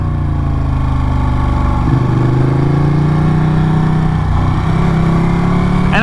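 A Ducati Panigale 959 sport motorcycle held in first gear on a winding mountain road, its engine droning steadily and loud throughout with small rises and dips in revs, close and with no voices.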